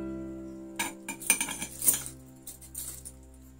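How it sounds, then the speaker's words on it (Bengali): Washed rice poured into a mixing jar for mango phirni, making a short run of clinking, rattling grains against the jar over a steady low hum, loudest in a few bursts mid-pour. "জারের মধ্যে আমি চালগুলো ঢেলে দেব"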